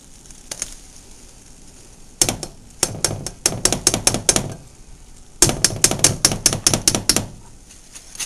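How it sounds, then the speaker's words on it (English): A whisk beats flour and margarine in a pot for mac and cheese, giving rapid, loud, rhythmic metallic clicking in two bursts of several seconds each, close up and alone. "The margarine in there, and whisk it. This is what I'm doing right now."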